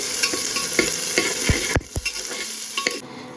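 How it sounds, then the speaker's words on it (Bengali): Tomato tipped into golden-fried onions, a bright sizzle with repeated spatula scrapes and a couple of thuds, the frying noise dropping away near the end. "পেঁয়াজটা হালকা গোল্ডেন গোল্ডেন হয়ে এসেছে আমি এর মধ্যে একদম অল্প একটু টমেটো দেবো টমেটো দিচ্ছি"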